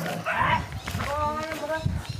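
A dog barks at goats in a remote forest area, with a few sharp barks and whimpery yips mixed among people talking nearby.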